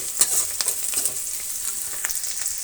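A pan sizzles steadily as ingredients for vegetable avalakki bath fry, with soft stirring scrapes over a constant hiss, close and without any voices.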